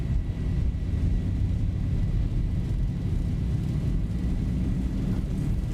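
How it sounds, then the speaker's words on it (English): Boeing 737 engines at takeoff thrust in the X-Plane Zibo mod simulator, a loud, steady, broadband roar with heavy low rumble that holds constant throughout, with no voices. "Takeoff thrust set."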